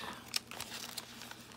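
A paper bag being cut with scissors, a faint close-up run of crisp snips and crinkles in quick irregular succession, with no talk.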